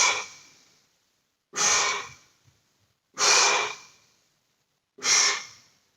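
Slow, deliberate breaths in and out during a Pilates exercise, close and clear: four long airy exhalations spaced a couple of seconds apart, separated by near silence.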